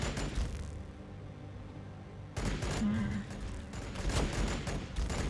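Bursts of gunfire from the Warhammer 40K Battlesector video game, a rattling volley at the start, then a pause, then renewed heavy shooting with thuds that continues to the end at moderate loudness.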